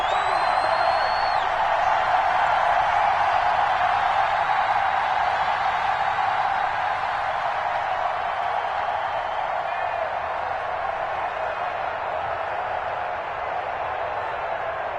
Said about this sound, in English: The crowd getting into it as we come up on a big 3rd down.